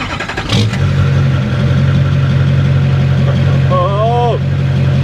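An old pickup truck engine cranks and starts, then settles into a steady low idle rumble, loud and close, with a brief whining chirp near the end.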